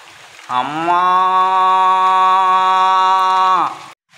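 A man imitates a calf's moo with one long, sustained nasal call that starts after a brief pause and ends abruptly, loud and close.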